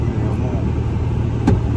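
A Nissan Skyline R34's engine runs steadily at a low, close hum inside the car, a continuous drone with a brief louder blip near the end, while people talk in Portuguese.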